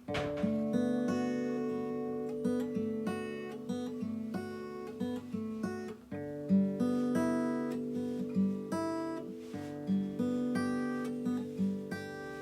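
Acoustic guitar fingerpicking of a Final Fantasy 8 tune in a steady repeating pattern, plucked notes ringing clearly over a low bass line, played up close with no voice.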